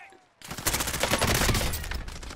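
Rapid bursts of video game gunfire erupt after a short quiet start, loud and continuous, with a voice briefly audible amid the shots.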